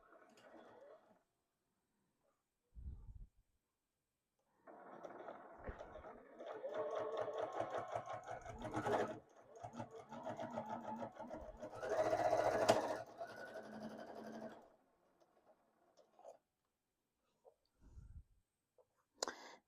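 A sewing machine runs for about ten seconds attaching binding to a quilted table topper, a steady nearby whir with brief pauses, and a voice speaks around the stitching.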